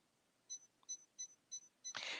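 A sewing machine beeping as its needle position is adjusted: five short, evenly spaced electronic beeps, clear and close, followed by a brief burst of rustling noise.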